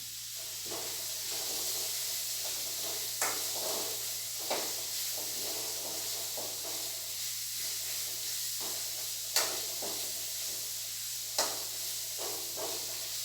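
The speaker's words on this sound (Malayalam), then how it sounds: "ഇതിലേക്ക് കറിവേപ്പിലിട്ട് കൊടുക്കാം ഒന്ന് പെരട്ടിട്ട് കൊടുക്കാം" Curry leaves sizzle in hot oil in a pan for chicken curry, a steady bright hiss with occasional crackles and a few soft scrapes and taps of stirring.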